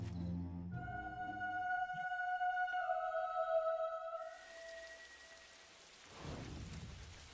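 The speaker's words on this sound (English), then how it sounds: "Welcome to the land of endless rain." Rain falls in the video game Fable 2, a soft steady hiss that comes in after a sustained musical tone fades, with a low rumble swelling near the end.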